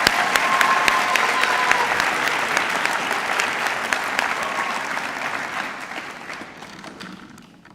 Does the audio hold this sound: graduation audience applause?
yes